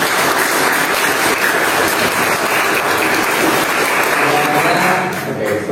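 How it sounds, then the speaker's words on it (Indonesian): A classroom of students claps loudly and continuously in a dense burst of applause for their tower projects, fading slightly at the very end. "tepuk tangan dulu"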